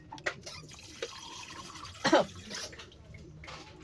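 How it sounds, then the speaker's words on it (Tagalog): Tap water runs into a cooking pot for a fish stew, heard as soft, uneven splashing and trickling with a brief louder gush midway, fairly faint and close. "dito na lang tayo kukuha ng tubig sa gripo"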